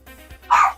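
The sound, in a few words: dog barking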